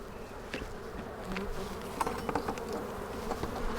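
Honeybees buzzing steadily around an open hive in the fall, a dense, fairly quiet hum with occasional closer passes of individual bees.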